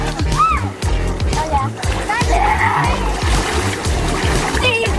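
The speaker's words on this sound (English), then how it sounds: "Waves are coming!" Water waves splash and slosh in rhythmic pulses, loud and close, with voices and background activity mixed in.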